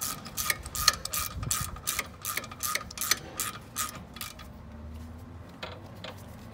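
Wrench tightening a brake bleeder screw during a brake pad job, giving a run of quick metallic ratcheting clicks in close, irregular bursts that thin out toward the end.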